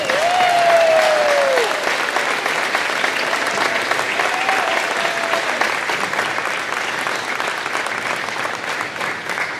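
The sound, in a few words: audience applause for award winners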